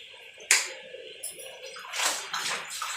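Water for a warm bath is poured and splashed, with a sharp splash at the start followed by several bursts of pouring and sloshing, close by.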